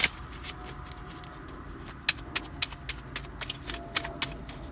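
A deck of tarot cards being riffled and shuffled by hand, crisp rapid flicks and snaps in irregular bursts, close up and fairly quiet, with no talking.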